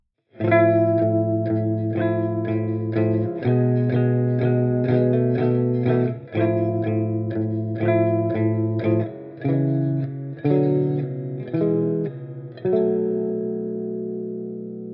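A 1996 Gibson Les Paul Custom fitted with Cream T A3 Deluxe pickups plays through a Freqscene Massiv Hiwatt-style pedal into a JMP 2203 amp sim. The overdriven chords ring loud and sustained, changing every second or two, with no talking.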